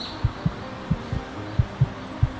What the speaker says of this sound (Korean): 심장 소리 들려.